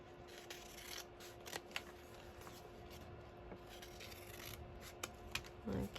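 Scissors cut along a collage-style paper sheet, close and quiet, with soft, crisp snips and paper rustles, a few sharper clicks, and a brief louder rustle at the end.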